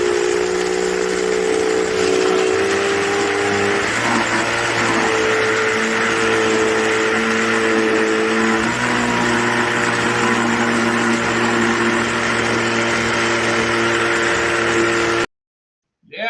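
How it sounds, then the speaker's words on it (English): A home ice cream maker's motor churns a batch with Heath toffee and almonds, droning loudly and steadily like a boat motor with a whining tone that shifts pitch a few times before cutting off abruptly near the end. "Yeah, it sounds like a motor. It sounds like a boat motor."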